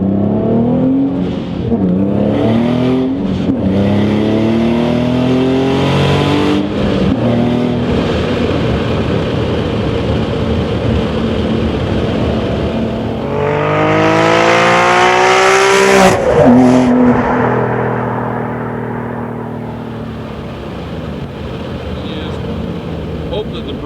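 A 2007 Nissan 350Z with Greddy twin turbos and a Motordyne TDX exhaust accelerates hard through rising gear pulls, loud and close from inside the car, with a fierce climb around the middle before easing off.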